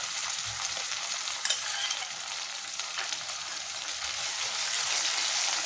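Ginger-garlic paste with browned onions and softened tomatoes sizzling steadily in a pan for prawn and drumstick curry, a continuous close frying hiss with light stirring and no talk.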